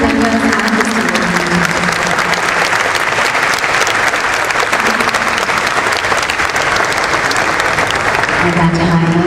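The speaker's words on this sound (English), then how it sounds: "Let's have a huge round of applause for Allied Vendors and Distillers." Loud sustained audience applause at a stock exchange listing ceremony for Allied Blenders and Distillers, thick continuous clapping from a large crowd with some voices mixed in, tapering slightly at the end.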